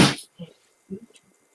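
A person sneezes once, loud and close, a sharp burst at the start followed by brief faint murmurs and small noises from people around a tabletop game session.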